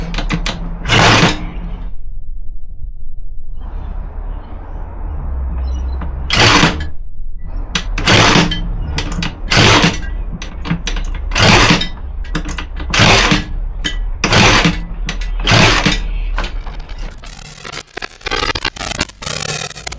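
A pre-bug zoomer scooter engine on its first start attempt, heard close up as a run of sharp, repeated cranking bursts about a second apart, ending in a rougher rattling stretch.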